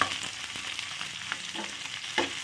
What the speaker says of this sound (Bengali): এটাকে জাস্ট একটু হালকা হাতে ভাজা করে দিচ্ছি